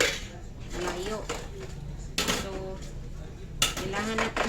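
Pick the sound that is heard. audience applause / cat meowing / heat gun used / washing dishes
washing dishes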